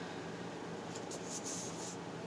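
Scissors snip through paper for a junk journal cover, several soft, quick crisp cuts close by over a steady hiss of room noise.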